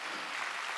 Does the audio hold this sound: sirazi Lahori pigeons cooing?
no